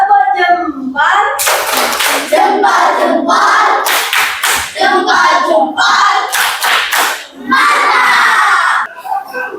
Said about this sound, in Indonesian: Kita kasih tepuk jempol.